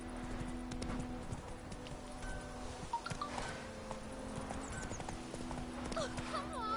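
Horse hooves clip-clop steadily through The Witcher 3 while someone talks over the rhythmic steps, with game ambience and occasional whinny-like calls behind.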